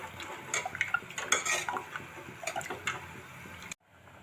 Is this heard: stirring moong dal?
yes